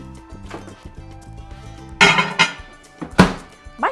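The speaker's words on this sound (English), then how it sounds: "Stir it all up." A spoon stirs Nutella mug cake batter with baking powder inside a mug, giving a few close clinks and scrapes, loudest in two bursts near the middle and end, over a soft steady background.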